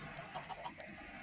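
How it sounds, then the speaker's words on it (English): Chickens cluck in a Minecraft-style modded game, several soft short clucks over a steady background hum, quiet and somewhat distant. "there's so many chickens"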